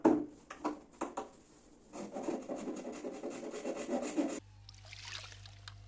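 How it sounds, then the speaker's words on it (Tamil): A blade cutting through a broken wooden chair: rhythmic rasping strokes, close and fairly loud, first in separate pulls and then in a quicker continuous run before stopping abruptly, followed by a quiet hum. "ஸோ கட் பண்ணலாம்"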